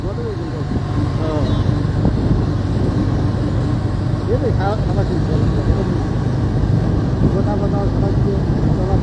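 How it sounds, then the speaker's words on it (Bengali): Ride aboard a traditional auto rickshaw in Barisal heading to a women's madrasa in Charmonai, a continuous motor drone and road rumble close by, with people talking loudly over the engine throughout. "আমিরে জামাত আমাদের বরিশালের ঐতিহ্যবাহী অটোতে চড়ে চরমনাইয়ের মহিলা মাদ্রাসা পরিদর্শনে যাচ্ছেন"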